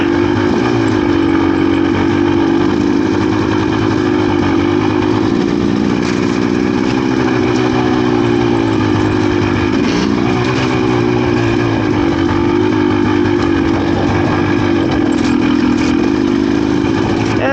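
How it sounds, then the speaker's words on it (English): A GPX TSE300 dirt bike with about 150 hours on it rides a two-way trail, its single-cylinder engine droning loud and close throughout, with slight rises and falls in revs. "my work is involving me riding a bike"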